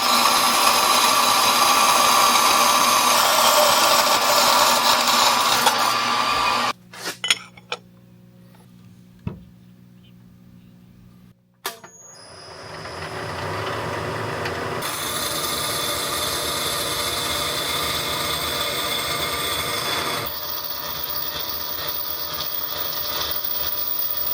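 A power tool cuts away excess material from a Mustang Cobra part. Loud, steady rasping runs for several seconds, drops to near silence with a few clicks, then resumes as a long, even cutting drone.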